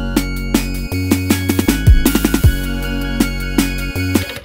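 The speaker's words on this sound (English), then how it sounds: "main two also has an end pattern, which goes like this" An Elektron Digitone synthesizer plays an end pattern: sustained bass tones and a steady drone under rhythmic percussive hits and short plucked notes, loud and close, with no one talking.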